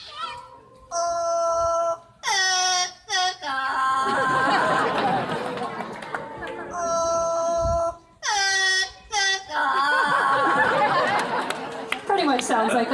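A parrot whistles and sings the first line of O Canada in clear tonal phrases, twice, with people talking and laughing between and around the attempts.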